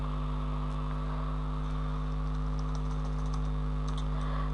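Light, rapid typing on a computer keyboard, faint clicks sitting over a steady loud electrical hum.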